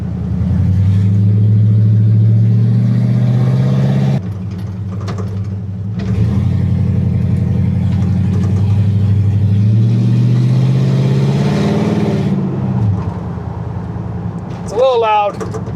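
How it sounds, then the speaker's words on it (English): A 1971 Chevrolet C10 pickup with an LS engine swap and a copied muscle-truck exhaust rumbles loudly and steadily, its deep engine note running almost throughout with a brief dip, while a person talks over it. "the exhaust on this is pretty much a copy of David Freiberger's muscle truck exhaust."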